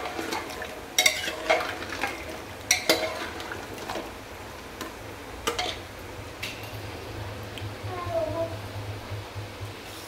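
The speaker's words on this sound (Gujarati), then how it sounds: "હવે બધાને બહુ સરસ રીતે એકદમ ફાઇન રીતે મિક્સ કરવાનું રહેશે." A spoon stirs and mixes halwa with sugar in a pan. Sharp clicks and taps against the metal come at irregular intervals over a soft sizzle, with a voice faintly in the background.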